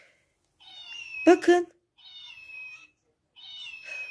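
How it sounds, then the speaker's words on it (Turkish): A house cat meows three times, drawn-out and fairly close, while a person speaks briefly between the first and second cries. "Miyavlat. Kedini miyavlat."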